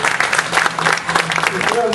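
Applause for two local historians at a tribute event held by a patriotic committee, a dense wash of clapping that carries throughout, with a voice and a faint tone rising over it near the end.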